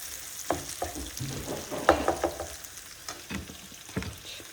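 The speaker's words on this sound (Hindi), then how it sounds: "सो ये हम थोड़ा सा ऑयल भी इसका ऐड करेंगे और टमाटोज भी। इसको अच्छा सा मिक्स करना है।" Onions and tomatoes cooking in oil are stirred in a pan, with a steady sizzle underneath and a run of spatula scrapes and knocks at irregular intervals, close and fairly loud.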